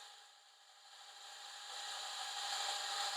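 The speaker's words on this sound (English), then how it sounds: "is essentially using the drill to rotate the valve" A drill spins a valve against its seat to lap a Citroen Saxo VTS 16v DOHC cylinder head with lapping paste, producing a faint, steady grinding rub that slowly swells in loudness over a few seconds, with no talk.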